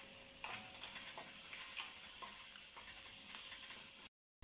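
Sliced onions and cashew nuts fry in hot oil for mutter paneer masala, giving a steady close sizzle with occasional soft stirring clicks before the sound cuts off abruptly.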